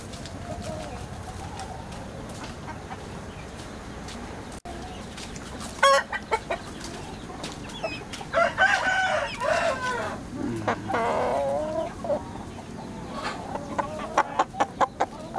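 Backyard garden chickens cluck and a rooster crows, the birdcalls beginning after a few quiet seconds and then coming in close bursts of clucking with a drawn-out crow, over a low steady background.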